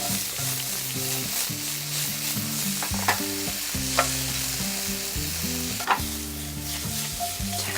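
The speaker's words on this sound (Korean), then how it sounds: "재료들을 구워주세요." Vegetables frying in olive oil in a frying pan give a steady, close sizzle with occasional sharp crackles, under a constant bed of background music.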